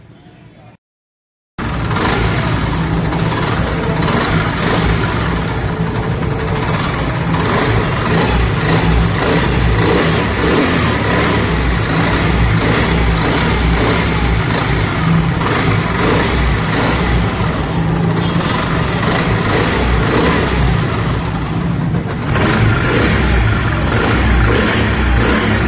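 A Honda CD70 motorcycle engine with a connecting rod fault starts after a moment of quiet and runs loudly and continuously, a steady close-up engine roar with a slight dip late on.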